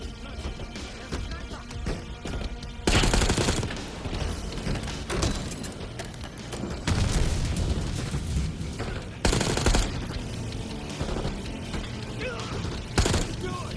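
Sentry gun turret fire in the video game Call of Duty: Black Ops 6, heard as several loud, dense automatic bursts over a busy battle bed of mechanical clatter and gunfire.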